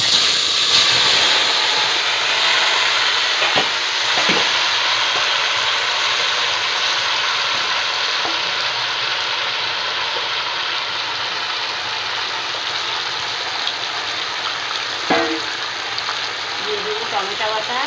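Chicken pieces frying in a pan for biryani, a steady broadband sizzle with occasional louder pops and crackles, continuous and fairly close throughout.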